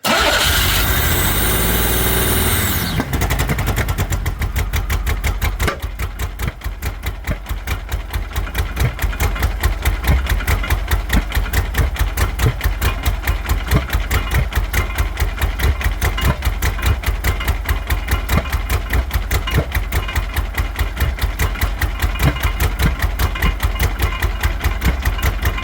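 Pontiac Fiero engine cranking, catching and then running continuously at a loud, steady idle with a slightly rough, uneven rhythm and light throttle blips, close to the car.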